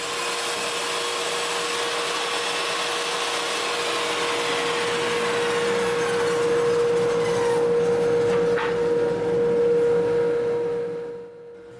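A table saw crosscuts a heavy wooden beam for a dining table, giving a steady loud whine with a constant tone that runs unbroken for about eleven seconds, then quickly dies away.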